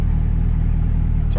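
A car fitted with a Corsa catback exhaust idles with its exhaust valves open, a loud, steady, deep rumble that holds evenly from start to finish.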